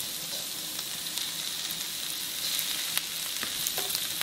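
Chicken frying in a pan with sautéed onions for cutlets, a dense, even hiss and crackle close up, steady throughout with a few faint stirring clicks and no voices.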